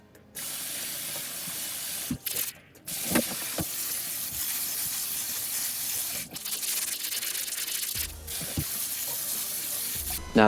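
Tap water runs into a kitchen sink over rice being rinsed in preparation for sushi, a steady close hiss with brief breaks and clatters, then the flow cuts off near the end.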